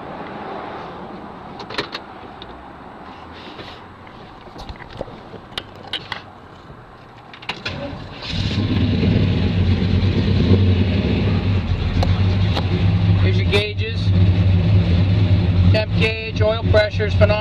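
A 1961 Chevrolet Bel Air with a 409 V8 and MSD ignition: a few faint clicks and cranking, then the engine catches at about eight seconds and settles into a loud, steady, rumbling idle close by.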